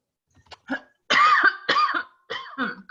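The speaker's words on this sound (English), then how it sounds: "Cough, cough" Several coughs in quick succession, close and fairly loud, a couple of short ones followed by heavier, harsher bursts.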